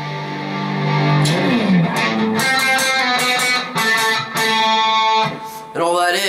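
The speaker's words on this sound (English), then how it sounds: "This is a bit of a volume swell." Distorted electric guitar in a song part, a sustained note fading in before dense chords ring out with short gaps between them.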